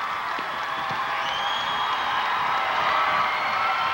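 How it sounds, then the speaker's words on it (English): Loyola Academy crowd on its feet at a 1998 IHSA girls basketball Class AA championship game, a dense, sustained roar of cheering and whoops filling the arena at close range. "Loyola crowd on its feet, cheering"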